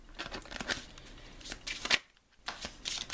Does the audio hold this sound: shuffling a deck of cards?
yes